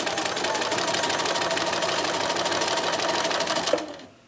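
Sewing machine stitching a fabric pencil pouch with a zipper, running as a loud, steady, rapid mechanical chatter for about four seconds and then stopping abruptly.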